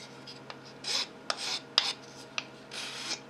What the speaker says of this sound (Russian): Более значительные повреждения удаляю с помощью напильника.